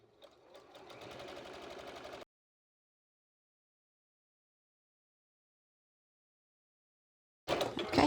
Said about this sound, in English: Sew down there, and that'll be the last step on these fronts.